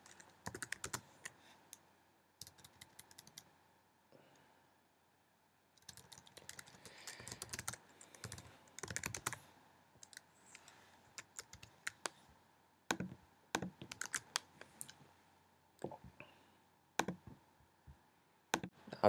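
Someone types code on a computer keyboard in irregular bursts of crisp, close key clicks with short pauses between them, quiet overall and with no speech.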